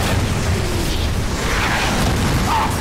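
Bomb explosions in the World War II shooter Call of Duty 3, a continuous rumbling barrage of booms with dense low-end roar that persists throughout, loud and without speech.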